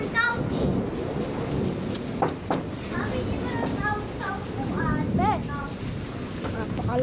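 A heavy storm with strong wind and pouring rain makes a dense, roaring wash of noise, with children and adults talking and calling out excitedly over it.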